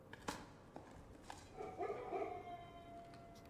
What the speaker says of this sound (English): You hear the dogs barking